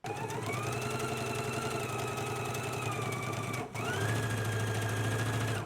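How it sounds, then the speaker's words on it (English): A sewing machine runs a jacket side seam at a 5/8-inch seam allowance, giving a fast, steady mechanical whir with a rapid stitching rhythm. It pauses briefly and then picks up again, close and loud, with no voices. "let's go ahead and stitch using a 5/8 of an inch seam allowance."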